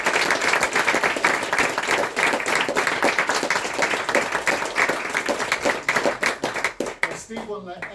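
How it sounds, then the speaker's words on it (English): A theatre audience claps warmly and steadily, the dense, close clapping loosening into scattered claps toward the end before a voice begins speaking. "the last rapturous applause that you must give are to Grant and Steve"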